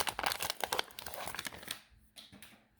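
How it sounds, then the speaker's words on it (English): The foil wrapper of an NBA Hoops 2020-21 Panini fat pack is ripped open in a quick, close crinkling tear of about two seconds, followed by a couple of softer crinkles. "Love the sound of the rip."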